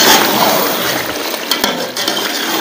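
A spiced mixture with green chillies frying in a pan while being stirred, a loud continuous sizzle with scraping spoon strokes and a sharp clink partway through.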